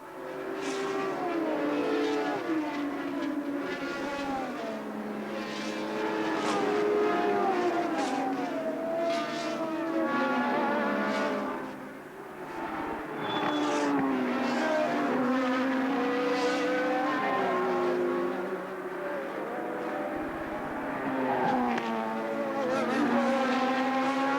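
1982 Formula One race cars at a Grand Prix, their engines wailing in high, rising and falling howls as they pass, loud and continuous with a brief dip midway, no talk heard.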